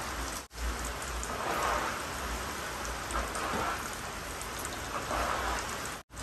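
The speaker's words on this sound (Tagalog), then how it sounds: "ganitong dire-diretso yung ulan" Heavy, unbroken typhoon rain pours down over a construction and renovation site, a loud, dense hiss that holds steady throughout, with two very brief dropouts and no voices.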